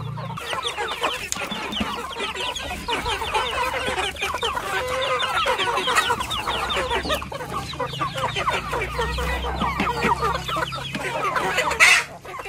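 Chickens cluck busily and continuously while being fed cucumber, many birds close by, with a brief louder squawk near the end.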